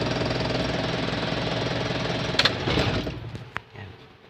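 A car's worn, noisy clutch hydroback (hydraulic release bearing) rattles and vibrates in a loud, steady mechanical drone close by, then a few sharp clicks as the engine is switched off and the noise dies away.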